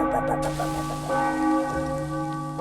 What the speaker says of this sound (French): On a fait tomber la cloche!